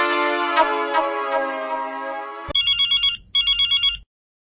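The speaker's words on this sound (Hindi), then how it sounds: "मैं मेहता साहब को फोन लगाता हूँ" A sustained electronic tone ends abruptly, then a telephone ringtone plays two bursts of rapid warbling beeps, clear and close, with no talking.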